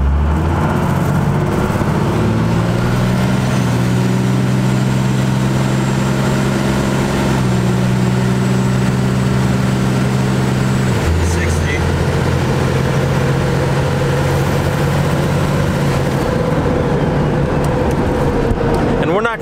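A diesel pickup truck accelerates hard on an open highway, engine drone climbing in steady stepped pulls through the gears, loud and close from inside the cab, with a brief drop at each shift.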